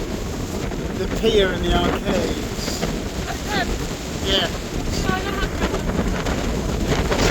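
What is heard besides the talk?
strong wind on a pier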